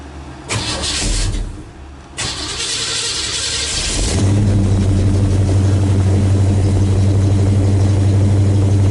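A 1969 Chevrolet Chevelle engine cranks in two short bursts, then catches and settles into a loud, steady idle that holds close by.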